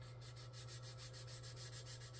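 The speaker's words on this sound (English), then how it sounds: "I'm just going to give this a nice little sanding right here." Hand sanding along a car fender just above the body line to smooth out a ripple before airbrush painting, a steady close rubbing rasp with rhythmic back-and-forth strokes over a low constant hum.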